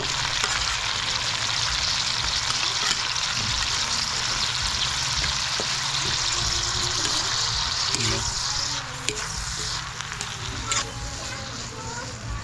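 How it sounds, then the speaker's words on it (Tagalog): Chopped tomatoes drop into garlic and onions frying in a pan, a loud, continuous hiss and sizzle with some stirring, while a person talks over it. "pastado na yung mga bawang at sibuyas. Talagyan na natin itong kamatis."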